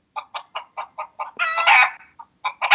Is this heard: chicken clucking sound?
yes